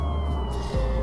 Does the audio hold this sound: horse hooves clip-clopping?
no